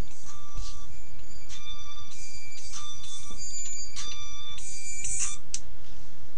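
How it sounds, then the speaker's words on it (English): A phone rings in short repeated electronic tone bursts, several rings in a row, loud and near, with no talk. "there's my phone ringing"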